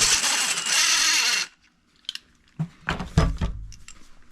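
Impact wrench hammering on a ball joint press tool during a Ford Super Duty front end rebuild: a loud, continuous rattling burst for about a second and a half, then stops, followed by a few scattered clanks and handling noises.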